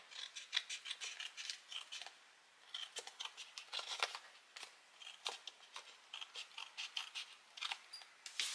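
Scissors snip through paper close up while a photo frame craft is made, giving a run of quick crisp cuts in uneven bursts with short pauses between them.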